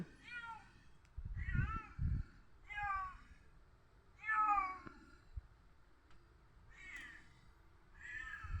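A cat meows repeatedly, six or so drawn-out, wavering cries spaced a second or two apart, close and fairly quiet, with soft thumps and rustling underneath.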